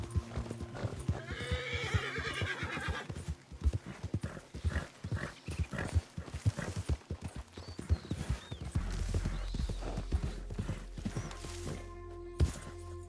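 A horse gallops in Red Dead Redemption, hooves pounding in a fast, uneven rhythm, with a whinny early on and brief crashes and game sounds mixed in.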